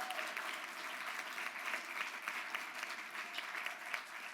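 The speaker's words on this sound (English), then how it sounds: "Let's hear a round of applause for these." A civic showcase audience in Philadelphia applauds council members, a steady, fairly distant wash of clapping sustained for several seconds with no talking over it.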